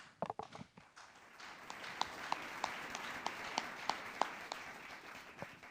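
Congregation applauding in a church service, a steady dense wash of clapping with sharper individual claps standing out, moderately loud and continuous throughout.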